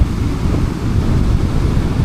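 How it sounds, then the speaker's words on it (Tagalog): Strong waves and storm surge pound the Pacific coast during a strong northeast monsoon, a loud, steady low roar of surf with heavy wind buffeting the microphone throughout, no voices. "Malaki ang alon dito banda"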